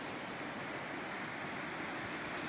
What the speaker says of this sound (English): I can hear a waterfall somewhere there.